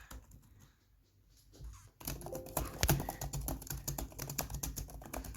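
Laptop keys typed on an HP Stream 11, quiet at first, then after a pause a steady run of close, crisp clicking with one sharper thump near the middle.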